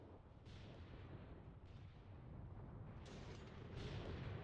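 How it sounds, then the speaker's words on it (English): Artillery guns fire repeatedly in the Mius Front wartime game, with several deep booms rolling out over a constant low rumble of battle. "Guns are firing, very nice."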